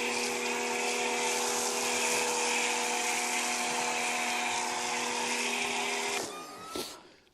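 A Muc Off pressure washer sprays a bike with a steady, loud broadband hiss and a constant motor whine that runs unbroken for about six seconds, then cuts off, leaving brief rattles.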